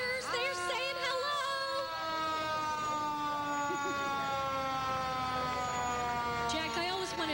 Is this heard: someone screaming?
no